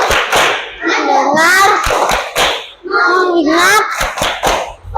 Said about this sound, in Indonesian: marilah kita tepuk fokus agar lebih semangat lagi